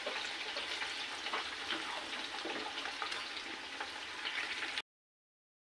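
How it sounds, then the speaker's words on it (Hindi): Onions and chicken feet frying in a pan over high heat, giving a steady crackling sizzle that runs evenly throughout and then cuts off abruptly. "हमारे यहाँ पर मेरे प्याज भी फ्राई हो रहे हैं और साइड पर मेरे पंजे भी फ्राई हो रहे हैं।"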